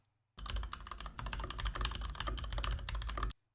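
Continuous fast typing on a quieter, creamy-sounding computer keyboard, a steady muffled stream of keystrokes for about three seconds, close to the microphone with no voices.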